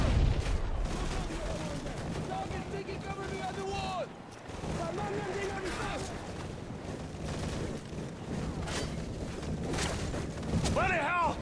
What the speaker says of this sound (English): Those MGs are tearing us apart!